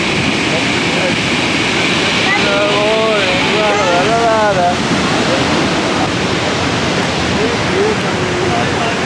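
Niagara Falls roars as a broad, constant wash of falling water heard up close. A voice rises and falls over the rushing noise partway through.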